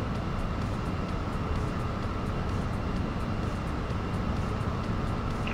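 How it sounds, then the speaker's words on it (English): Boeing 777-300 speeding up in the X-Plane 11 flight simulator, a steady, loud broadband engine roar with a constant cabin hum, unbroken and unchanging throughout. "I will just speed the airplane up a bit."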